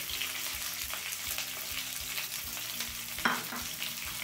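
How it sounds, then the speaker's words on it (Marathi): Sliced onion and curry leaves frying in hot oil for aloo matar poha, a steady broadband sizzle with a sharp crackle and spatter near the end, close and alone with no talk. "आणि त्यानंतर आपण लांब लांब कापून जो कांदा घेतला ना तो घालतो."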